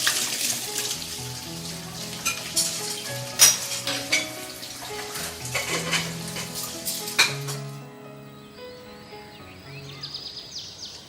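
Dishes being washed at a home kitchen sink, with running water, clinking plates and pots, and scraping utensils in a busy, close, continuous clatter that thins out toward the end.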